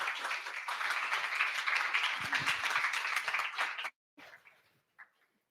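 Loud, dense applause from a conference audience welcoming a speaker to the stage at a PMF Berlin talk fills nearly four seconds, then cuts off abruptly, leaving a few faint scattered sounds.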